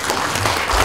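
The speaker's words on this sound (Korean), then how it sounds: "큰 박수 부탁드립니다." Brief burst of applause from a seated audience at a Buddhist newspaper anniversary ceremony, steady dense clapping at fairly loud level, with no talking over it.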